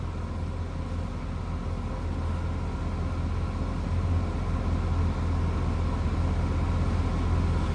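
A 1979 Chrysler Cordoba two-door with T-tops idles smoothly from behind the car. Its stock exhaust gives a steady low rumble that holds without revving and without talk.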